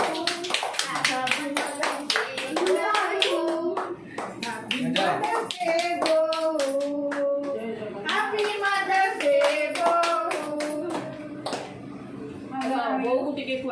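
Hand claps ring out in a steady run of sharp, close beats at a family Mother's Day gathering, with children and adults talking and singing loudly over them.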